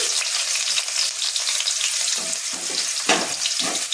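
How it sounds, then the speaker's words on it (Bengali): Two chopped onions hit hot oil for an egg tadka, giving a steady, close sizzle broken by several scraping stirs toward the end. "তেলটা আমার গরম হয়ে গেছে, এবারে আমি কুচনো পেঁয়াজটা দিয়ে দিচ্ছি"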